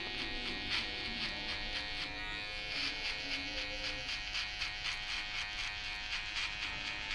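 Electric hair clippers buzz continuously while cutting hair, a close, steady, evenly pulsing hum with slight shifts in pitch as the blades work through the hair, and no talking.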